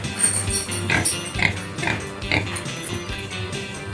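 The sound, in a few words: pig oinking on a farm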